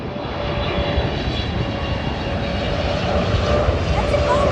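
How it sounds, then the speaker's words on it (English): A Boeing 777 airliner at Auckland Airport gives a steady, loud engine roar with broadband rumble and a faint whine, holding level throughout the clip while someone talks over it. "That's a Boeing 777."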